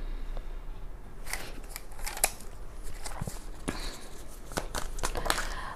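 Tarot cards are handled and shuffled close by in a quiet room, with scattered sharp snaps and soft rustles spread irregularly over a low background hiss.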